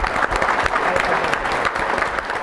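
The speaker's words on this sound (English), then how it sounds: "I think we can all give them a round of applause" Audience applause after business presentations at a pitch event, dense clapping from a crowd, fairly loud and close, sustained throughout with no speech over it.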